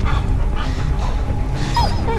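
A dog in the video game Beyond: Two Souls whimpers and yips at close range in short, strained bursts, with a soft, rising whine near the end and muffled game noise underneath.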